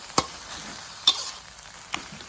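Frog curry being dry-roasted in a pan, with a faint dry sizzle broken by three sharp scraping clacks of the utensil stirring against the pan.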